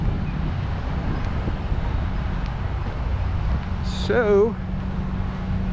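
A generator powering the lights at the I-80 race track drones steadily at low pitch throughout, outdoors on a breezy evening, while a voice speaks briefly over it.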